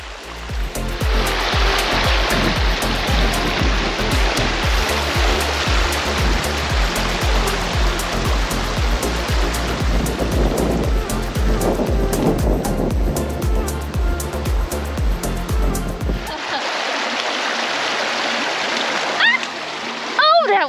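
A cold forest stream at Bell Smith Springs in Shawnee National Forest rushes and splashes loudly and close by, with a voice mixed in. The water drops away abruptly near the end, leaving quieter splashing.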